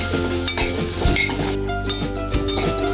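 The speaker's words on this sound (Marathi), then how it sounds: "सिमला मिरची थोडी घालते ती पण परतून घ्यायची आहे" White spring onion and capsicum sautéing in a pan for veg Manchurian gravy, a loud continuous sizzle with a low hum underneath and a few soft stirring knocks, close up with no voices.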